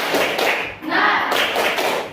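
A classroom of students claps hands together in rhythmic bursts after a teacher's call for spirited applause, loud and close with voices mixed in.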